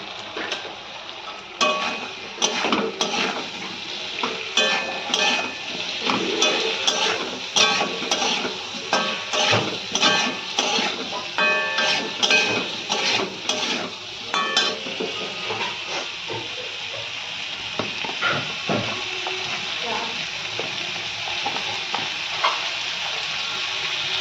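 Spices and vegetables are stirred and sautéed in a pan, with repeated scraping and clinking of a spatula over a soft continuous sizzle, fairly quiet and with no talking.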